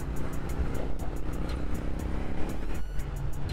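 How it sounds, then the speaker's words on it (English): Engine of a 1997 Honda Steed 400 cruiser motorcycle accelerating through the gears on an estate road, a steady, moderately loud engine drone with a brief dip, as at a gear change, near the end. "Going through all the gears really, really nice."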